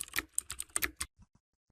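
Keys clacking on a computer keyboard as a phone number is entered on a PC: a quick run of about a dozen crisp, close keystrokes, then a few slower, spaced taps fading to quiet.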